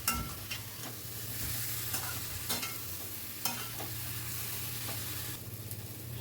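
Potatoes coated in spices stirred in a frying pan, a spatula scraping in irregular strokes over a soft, continuous sizzle, close and fairly quiet.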